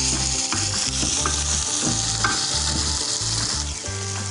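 Chopped green chillies are stirred and fried in a pan, a loud, continuous sizzle close up with rhythmic scraping from the stirring.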